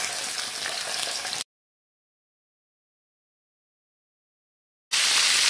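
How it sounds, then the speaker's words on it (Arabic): Chicken pieces frying in a little oil in a pan on a stovetop, a steady broadband sizzle at the start that cuts to silence and then returns loud and close near the end. "هنحط شويه زيت ونحط كده الفراخ في قلب الصينيه"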